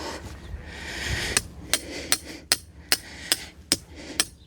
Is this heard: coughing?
no